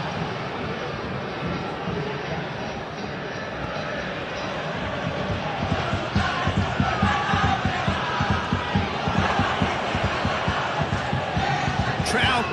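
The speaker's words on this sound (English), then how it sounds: "Crowd calling for him to shoot." A football stadium crowd at a BRI Super League match between Malut United and PSBS Biak roars and chants continuously, swelling louder as fans urge a player to shoot, with a commentator's voice over the din.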